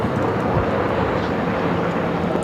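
A steady, loud broadband roar of a jet airliner arriving at Phoenix airport, a continuous rumbling wash with no distinct events, heard from outdoors at plane-spotting distance.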